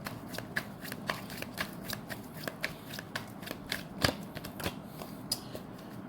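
Tarot cards shuffled by hand, with a steady run of crisp riffling flicks and soft slaps, close and fairly quiet, with no talking.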